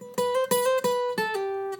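A short guitar phrase from a song, a few quick notes, some sounded by hammer-ons, played close and clear without any voice.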